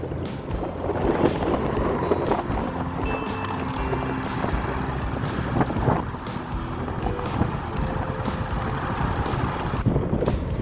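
Strong, dry wind blows steadily and roughly on a rural road near Champhone in Savannakhet, Laos, buffeting the microphone in a continuous loud rush with no voices.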